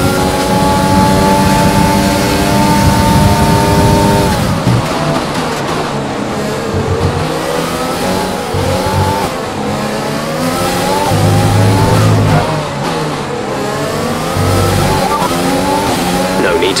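Formula 1 car engines in the racing game F1 2020 on the Abu Dhabi circuit scream loudly and continuously, pitch climbing and dropping through gear shifts as the car accelerates and brakes.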